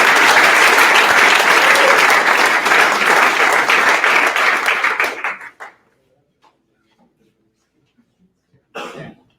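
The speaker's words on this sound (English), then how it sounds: "another round of applause for Linda" Audience applause for award recipients at a Founders Day ceremony, loud and sustained for about five seconds before cutting off, followed by silence, a few faint taps and a brief cough or throat clearing near the end.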